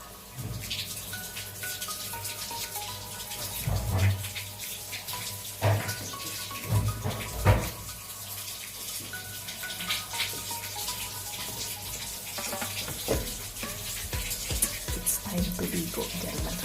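A tap runs as water for an elderly woman's shower is prepared, a steady rushing flow with clunks and splashes throughout, and faint voices underneath now and then.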